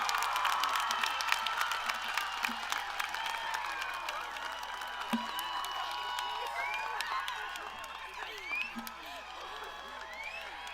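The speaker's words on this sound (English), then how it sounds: "let's give a big round of applause for the class of" Large crowd at a high school graduation ceremony applauding and cheering the class of 2025, dense sustained clapping with scattered whoops, steady and fairly distant for about ten seconds.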